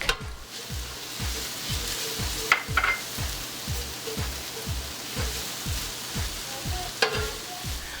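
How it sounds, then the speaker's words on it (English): Onions and garlic sauté in a pan with a steady broadband sizzle, a spoon scraping in a regular rhythm about every half second, and a few sharper clinks against the pan, all close and with no talking. "Once the onions have become transparent and brown, then I'll go ahead and add the garlic."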